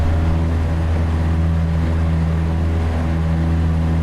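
Ferrari 488 GT3 racing car engine in iRacing during a GT3 Open Challenge race at Spa-Francorchamps, a steady, loud droning hum with strong low harmonics, held at nearly constant pitch throughout with no talking.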